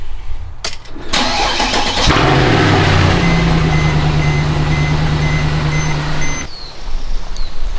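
A BMW car engine cranks over and catches on a cold start, then settles into a loud, steady idle close by before cutting off.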